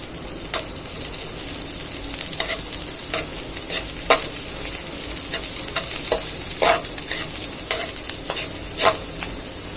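Garlic, onion and tiny shrimp fry in a pan, giving a steady close sizzle broken by sharp clacks and scrapes of stirring at uneven intervals.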